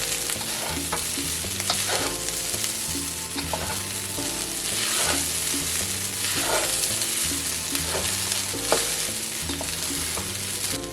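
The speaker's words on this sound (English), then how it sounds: "But we also want to keep that rice up and cook it into our ingredients. And add back in the eggs. And give those a little toss in there." Rice and eggs being tossed and stir-fried in a pan for a Panda Express-style fried rice, a steady close sizzle with repeated scraping and stirring clatter running throughout, no talking.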